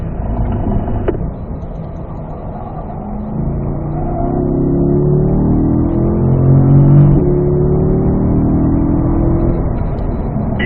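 Race car on the Spring Mountain North Course accelerating hard out of a corner, a steady loud engine note climbing in pitch as it pulls away, heard continuously from close by without talk.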